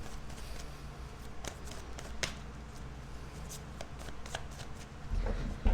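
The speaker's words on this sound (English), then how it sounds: "let's cut the deck and let's see what comes up" A tarot card deck is shuffled and cut by hand close to the mic, giving repeated soft riffling flutters and crisp card snaps over several seconds and ending in a few louder taps.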